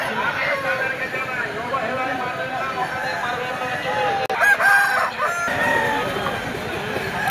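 Chickens and roosters at the Poradi poultry market in Jhilimili, with repeated clucking and crowing near and far over busy crowd chatter, loud and continuous.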